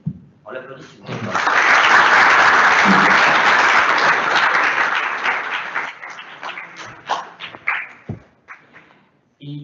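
An audience in a school lecture hall bursts into loud, sustained applause that swells and holds for several seconds, then thins into scattered claps before a voice returns at the end.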